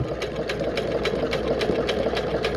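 A sewing machine stitching a foam fishing rod tube cover runs continuously nearby, with a rapid, regular needle clatter over a low motor drone.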